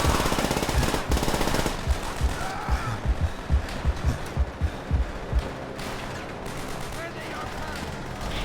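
Rapid bursts of automatic gunfire from a weapon in the World War II shooter Call of Duty: World at War, set on the Eastern Front, rattle loud and close in repeated volleys over a rumbling battlefield background.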